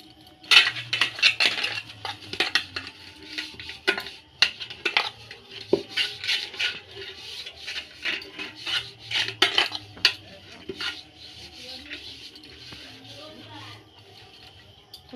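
Oil being rubbed around the inside of a metal mixing bowl ahead of baking a cake, heard as close scraping and clinking knocks, irregular and fairly loud, with a voice speaking now and then.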